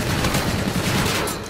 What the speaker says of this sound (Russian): Я вижу, он лёг, а я стою и стреляю по нему.